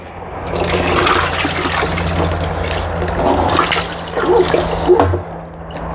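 Water from a garden hose, fed by a 12V caravan shower pump on a solar-powered allotment setup, pours into a container with a steady, loud, close splashing and gurgling that swells slightly near the end.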